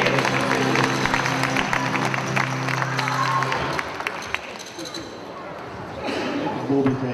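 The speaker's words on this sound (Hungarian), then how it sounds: "Egy nagy tapsot Petrának is most jön a hét!" An audience at a children's concert applauds for a girl's birthday, with steady clapping and crowd noise that thins out midway, while a voice comes through near the end.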